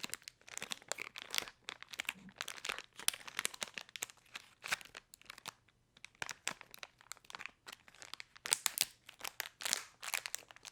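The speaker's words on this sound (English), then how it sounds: "There will be some intense crinkling today." A candy packet wrapper crinkles and crackles up close in quick, irregular bursts, soft but intense handling noise with a brief pause midway.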